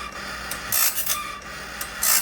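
Timberking Talon sharpener grinding the gullet of a sawmill blade, a steady mechanical whir with a few brief, faint hissing touches of the wheel, close and without speech.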